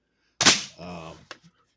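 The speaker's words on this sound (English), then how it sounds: "for dropping the bolt, whether it's in pump or semi-automatic mode" A Franchi SPAS-12 shotgun bolt drops with a single sharp metallic clack close by, followed by a short voice and a small click.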